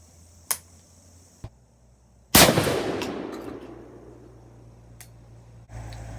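A single very loud, close 10 gauge shotgun blast firing a 2-1/2oz Turkey Thunder turkey load outdoors, with a long rolling echo decaying over several seconds and a few small clicks before it.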